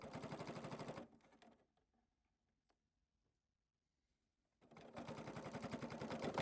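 A sewing machine stitches a mitered quilt binding in rapid, even bursts of needle clatter, runs about a second, stops for a few quiet seconds, then starts again, close and clear.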